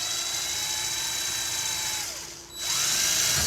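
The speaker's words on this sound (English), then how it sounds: "So you can drill right through the resin pretty cleanly." A power drill whines steadily at close range, dips briefly as it bites through resin, then spins back up to full speed.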